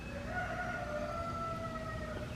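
A rooster crows in a garden at morning, a long drawn-out call with wavering tones held for a couple of seconds over steady outdoor background noise.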